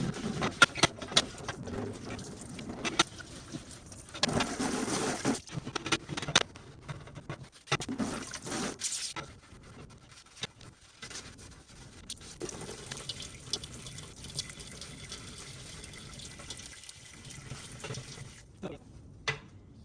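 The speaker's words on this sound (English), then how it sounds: "So just get a nice clean sponge and start scrubbing just gently at" Water running from a tap while a sponge scrubs unexposed photo emulsion off a screen printing screen, with intermittent splashing and rubbing bursts that stop and start over about twenty seconds, close by and moderately loud.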